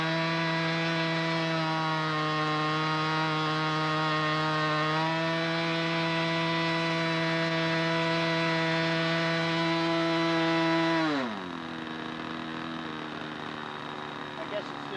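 A model airplane engine holds a steady, loud, buzzing idle for several seconds, then its pitch drops abruptly near the end and it keeps running lower, with no voices over it.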